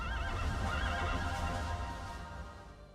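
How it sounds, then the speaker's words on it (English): A horse neighs in a fantasy tabletop game session, a loud wavering whinny over a low rumbling bed that fades gradually toward the end, with no talking. "I heard a horse"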